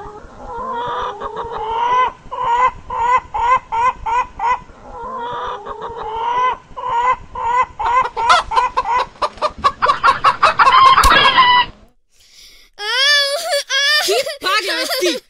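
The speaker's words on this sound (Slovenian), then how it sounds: "Pa kaj ti je oboga kokoš naredila, da si jo takole brcil, ha?" A hen clucks in rapid, repeated bursts, loud and close, building to agitated squawking before a short pause and then further high calls.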